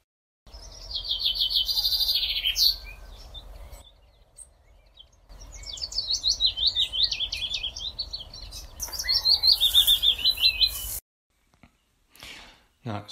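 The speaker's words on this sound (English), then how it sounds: "This next clip starts off with the chaffinch and then two bursts of willow warbler song." Chaffinch song opens the recording, followed after a short gap by two separate bursts of willow warbler song, clear and fairly close over a low background hum in an early-morning dawn chorus.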